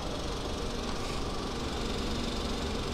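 A Kia Sonet HTX engine idles steadily, a constant low rumble with faint mechanical ticking and no change in pitch, heard alone without talk.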